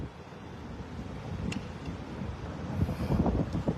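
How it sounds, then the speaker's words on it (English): Steady wind buffets the microphone in low rumbling gusts, growing a bit stronger toward the end, with no voices. "it's getting a little windy"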